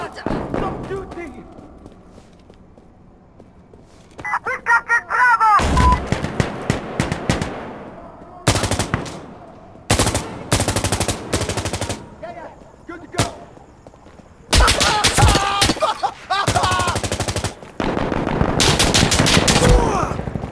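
Gunfire in Insurgency Sandstorm, including a Grease Gun, comes as repeated sharp bursts of automatic fire separated by brief pauses, loud and close, with shouting voices between and over the shots.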